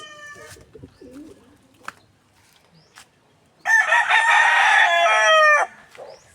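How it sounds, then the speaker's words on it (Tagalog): A rooster crows loudly and close for about two seconds after some soft clucks and faint bird sounds, then the yard goes quiet again. "So, ito yung manok natin."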